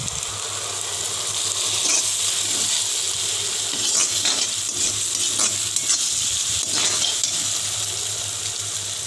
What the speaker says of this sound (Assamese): এখিনি মই প্ৰায় 1 মিনিট মান ফ্ৰাই কৰিম